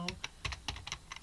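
Quick keystrokes on a computer keyboard while entering a search keyword, a brisk run of close, light clicks with soft speech faintly underneath.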